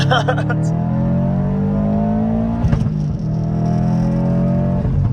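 Loud, close engine roar as a Subaru STI hatchback accelerates, the exhaust note rising steadily in pitch through the gears, with voices talking underneath.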